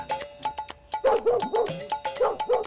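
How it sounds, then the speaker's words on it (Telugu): A puppy yips and barks in quick, repeated high-pitched bursts, loud and close, with short whimpery calls mixed in across the whole stretch. "ఆ దొంగ మీద డబ్బులు తీసుకొని మేక పిల్లకి బదులు ఈ కుక్క పిల్లని అంటగట్టాడు"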